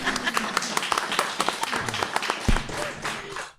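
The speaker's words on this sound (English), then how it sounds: "Didn't y'all want to clap for that first?" Scattered clapping from a school board meeting audience, a spread of close, uneven hand claps running for a few seconds, mixed with murmuring voices and a bump near the end.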